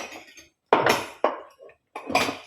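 Dishes, pots and cutlery clatter and clink in a home kitchen as they are washed by hand, three or four distinct bursts of clanking separated by short pauses, close by.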